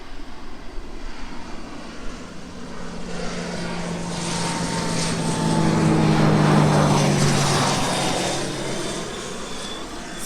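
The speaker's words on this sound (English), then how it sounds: "Love watching the planes come in." Propeller airplanes approach to land at Myrtle Beach, a loud droning engine roar that builds to a peak midway and then recedes, with no other sounds standing out.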